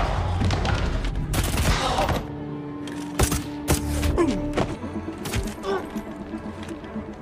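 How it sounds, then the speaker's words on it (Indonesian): Several sharp gunshots crack out in an irregular burst, loud and close, with thuds and mechanical clatter amid a busy, tense soundtrack. "Mendengar suara tembakan, Tuan Garza pun langsung bersiap dengan pistolnya"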